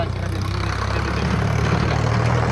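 A tractor engine runs in a village farm field, a loud, close, continuous rumble that holds steady without pauses, with no talking over it.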